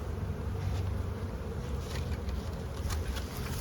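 Honeybees at a hive buzz in a thick, steady drone close by, many insects humming together with no other sounds.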